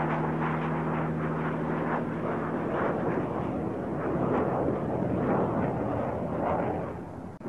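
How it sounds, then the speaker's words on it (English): A Messerschmitt Me 262, the Luftwaffe's early jet fighter, roars past in a loud continuous rush with a steady low hum underneath, sustained throughout and easing slightly at the end. "the Luftwaffe's most advanced fighter, the Messerschmitt Model 262"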